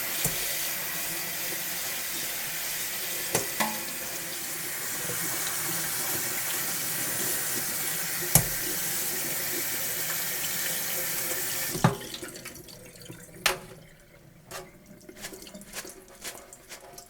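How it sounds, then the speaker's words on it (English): Tap water runs steadily into a sink as mint leaves are rinsed, a loud continuous gush broken by a few clicks, then cutting off near the end to leave scattered drips and small handling noises. "Let's go ahead and give our mint leaves a good rinse"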